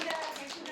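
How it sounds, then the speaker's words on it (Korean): A brief patter of light clapping from a small gathering welcoming a peace flame brought from Lumbini, Nepal, by a Korean Buddhist monk, quiet and over in under a second. "야 박수!"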